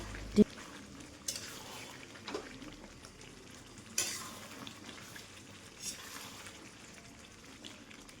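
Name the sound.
stirring mutton curry in a pan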